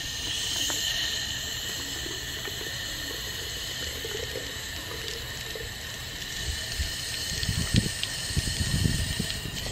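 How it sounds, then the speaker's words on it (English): Tap water running steadily into a spray bottle to dilute a wheel and grime cleaner concentrate 50-50, a continuous close hiss and splash with a few louder gurgles near the end. "Then I'm going to fill the rest with water."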